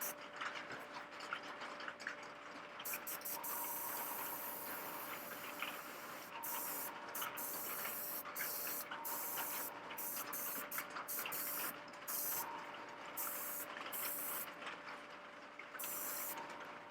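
Airbrush hissing steadily while grey paint is built up on Skaven miniatures, a continuous close spray broken by short stops and restarts, with a faint steady compressor hum underneath.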